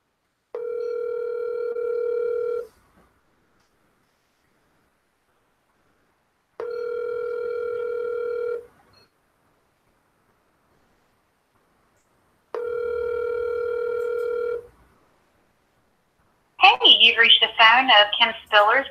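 Outgoing telephone ringback tone from a real estate cold call, three steady tone bursts about two seconds long separated by four-second pauses, followed by a recorded voicemail greeting.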